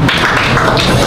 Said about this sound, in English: I think everybody owes themselves a round of applause as well.